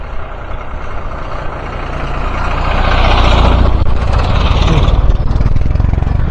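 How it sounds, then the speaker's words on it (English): Tractors clearing thicket near a lakeside bike trail give off a loud, close, continuous diesel engine roar that builds in volume midway and stays heavy to the end, with no clear talk over it. "These tractors are out in force today."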